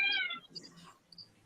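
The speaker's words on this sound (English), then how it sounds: "Somebody's cat's mad." An angry cat lets out a loud, drawn-out meow at the start, then fainter scuffling and small noises trail off in a quiet outdoor setting.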